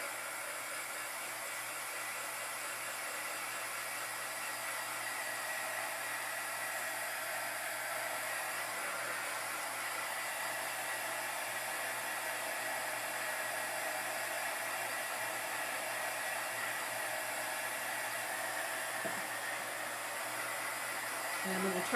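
A hair dryer blows continuously and steadily at close range while drying Mod Podge glue on a Dollar Tree craft project, a constant whooshing roar with nothing else audible above it.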